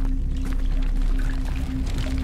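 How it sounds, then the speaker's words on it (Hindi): Water pours steadily into a container being filled in a game, a continuous rushing fill sound with a faint tonal hum beneath, alone and moderately loud. "पानी भर रहा हूँ जल्दी जल्दी, फिलिंग वाटर"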